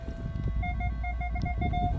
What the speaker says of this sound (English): It's ringing up a lot higher than lead should be ringing up.